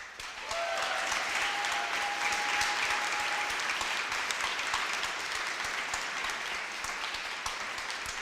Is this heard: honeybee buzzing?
no